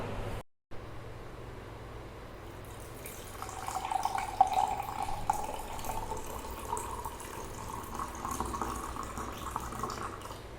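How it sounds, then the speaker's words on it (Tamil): Fresh watermelon juice is poured into a glass mug, giving a soft, steady trickling of liquid that grows slightly louder midway, with no voices. "இது அப்படியே ஒரு கிளாஸ் மக்குக்கு ட்ரான்ஸ்ஃபர் பண்ணிக்கலாம்"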